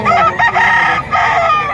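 A rooster crows loud and close at a poultry market in Padre Garcia, Batangas, its strained harmonic call stretching across the moment in two sustained surges.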